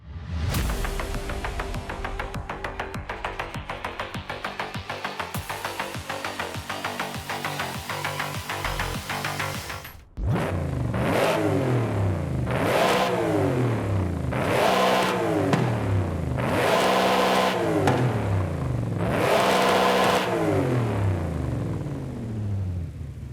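A 700-horsepower Ford Mustang Shelby GT350R races in Forza Horizon 5, its engine roaring loudly and steadily with repeated rising revs and gear shifts after a brief drop near the ten-second mark.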